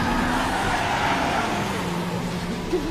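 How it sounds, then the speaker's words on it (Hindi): A jeep starting to drive off in a hurry, its engine holding a steady drone with a faint rising whine, moderately loud throughout with no speech over it. "वकील गाड़ी चला."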